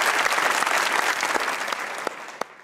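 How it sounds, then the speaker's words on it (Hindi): A studio audience on a comedy talk show claps steadily, the applause fading a little toward the end, broken by a few distinct single claps. "इस पे ज्यादा ताली होनी चाहिए भाई।"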